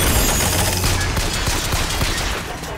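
A turret in the video game Bioshock Infinite sprays dense, sustained automatic fire, loud and continuous for a few seconds.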